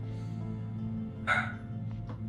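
A single dog bark cuts sharply through steady background music during a fantasy tabletop role-playing session, followed by a fainter, shorter yelp.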